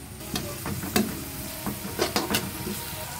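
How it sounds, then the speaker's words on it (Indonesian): Blended onions and sambal fry in a pan for nasi goreng, giving a steady sizzle broken by irregular scraping stirs of a spatula against the pan, close and fairly loud with no talking. "Kita kacau."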